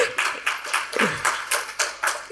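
Sparse, slightly uneven claps from a small audience at a technical security talk, individual hand strikes spaced roughly a quarter second apart, moderately close, with a brief voice partway through.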